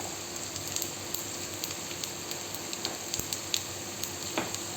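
Chana dal and cumin seeds frying in a pan, a steady low sizzle with scattered small pops and crackles, close and fairly quiet.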